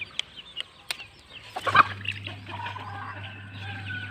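Young fighting-cock chicks on a farm peep in scattered high chirps, with a brief louder rustle midway and a low steady hum underneath.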